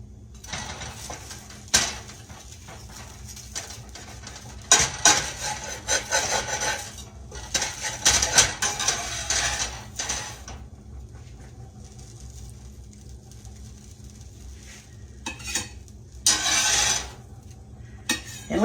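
A big kitchen knife saws through a toasted ham and cheese sandwich, cutting it in half, giving rough, raspy scraping strokes in several bursts separated by quieter pauses, close to the mic.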